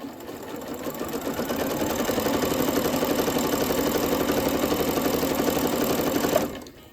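A sewing machine stitches wool-like fabric at a 2.4 stitch length for a snowman jar craft, ramping up to a rapid, even mechanical chatter that runs steadily for several seconds before stopping abruptly.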